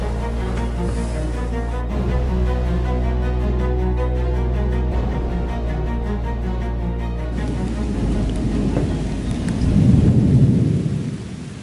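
A deep rolling thunder rumble during a rainstorm outside an abandoned château, a long low roar under steady rain patter that swells near the end, heard from indoors with no talking.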